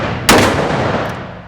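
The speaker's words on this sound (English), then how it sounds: "The hand cannon. See, this thing shoots really small pistol rounds." A hand cannon chambered for a small pistol round fires one sharp, very loud blast up close, followed by a decaying echo.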